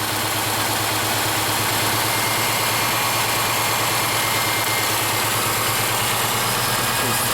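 A Subaru engine with a high-idle fault runs close by at a steady, even idle, a continuous throbbing drone with no voices over it.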